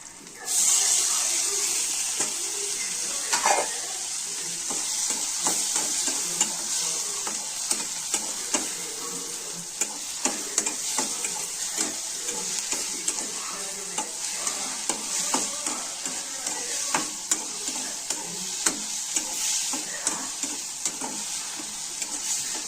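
Onions fry in a pan with a constant sizzle and hiss while a utensil stirs them, scraping and tapping repeatedly against the pan.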